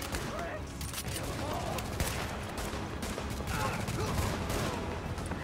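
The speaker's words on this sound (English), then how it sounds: "this gun is extremely inaccurate." Gunfire in the video game The Division, an inaccurate automatic weapon firing in a steady stream of rapid shots under continuous game noise, with players talking over it.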